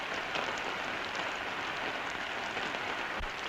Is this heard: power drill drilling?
no